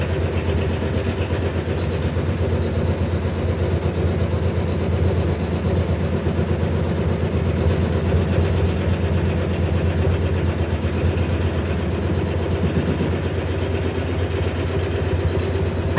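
A Janome MC9900 embroidery machine stitches an in-the-hoop coaster, its needle running in a fast, steady mechanical chatter that holds evenly at moderate loudness throughout, with no talking.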